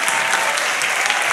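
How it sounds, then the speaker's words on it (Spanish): A live comedy show audience in a theatre breaks into dense, loud applause, many hands clapping together in a continuous burst. "Aplausos para nuestra amiga."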